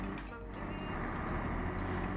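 An engine labours as a 1938 truck struggles on the Serra dos Tamoios mountain road in a truck driving game, giving a heavy, continuous low drone under people chatting.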